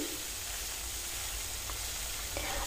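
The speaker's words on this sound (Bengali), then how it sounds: "মাছ দেবার পর ভালোভাবে উল্টে পাল্টে দু পিটি লাল করে ভেজে নেব" Rohu fish pieces fry in mustard oil in a pan, making a quiet, steady hissing sizzle with a few faint spatters.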